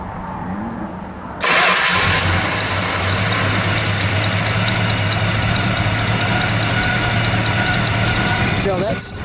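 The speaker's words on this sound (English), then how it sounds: "Okay, so let's fire it up." A 1969 Dodge Coronet 500 convertible with a 318 V8 cranks over after a quiet moment, catches quickly and settles into a steady, smooth rumbling idle, loud and close.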